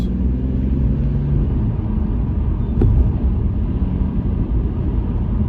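A car accelerating on an advanced drive as the gas is applied, heard from inside the cabin as a loud, continuous engine and road rumble that holds steady the whole time, with a brief thump near the middle.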